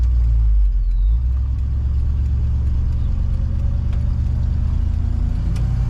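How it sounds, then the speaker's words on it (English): A 1975 Ford F100 Ranger pickup truck drives along with a steady, loud low engine rumble and road drone, the pitch settling after an upshift into second gear. "We just shifted into second gear."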